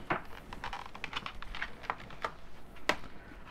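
Keys tapped on a PS2 computer keyboard connected to a Tandy 1000, a run of irregular clicking keystrokes at close range with one sharper stroke near the end, no voices.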